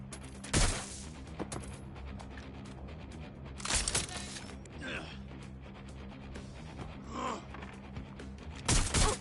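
Video game gunfire in Watch Dogs Legion, with a few sharp bursts of shots aimed at the player standing out over a steady game background, spaced several seconds apart.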